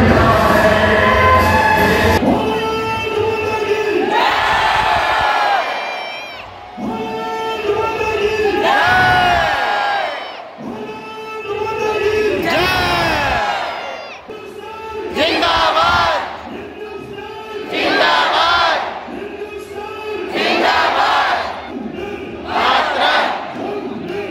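A huge crowd at the Wagah border ceremony roars in long surging waves of massed cheering and chanting, loud and sustained with brief dips between swells, voices blending into one dense wall of sound.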